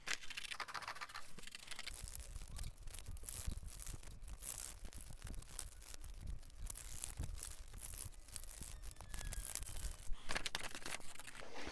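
Scissors cutting through scrap cardboard or cardstock for a shoe-sole maker project, a steady run of crisp snips and papery crackles, close and continuous with no talking.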